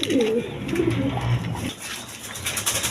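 Pigeons coo steadily at a pigeon farm, a close, continuous chorus of low rolling calls with farm background noise and no clear talk.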